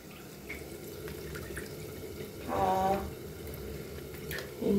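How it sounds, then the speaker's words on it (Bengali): Milk poured into a cooking pot for Bengali rice pudding (payesh), a close liquid splashing and gurgling stream that swells for about a second midway over a steady kitchen background. "প্রথমে দুধটা ঢেলে দেবো,"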